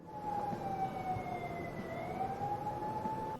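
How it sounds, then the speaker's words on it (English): A wailing emergency siren rises and falls steadily in the distance, faint but continuous beneath a noisy outdoor background. "you can hear a siren in the background."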